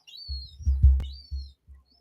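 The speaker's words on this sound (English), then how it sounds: "Shut up, you stupid birds." High thin bird chirps ring out over low rumbling thumps and handling noise, a few sharp whistled calls close by and fairly loud, fledglings present, with no speech in between.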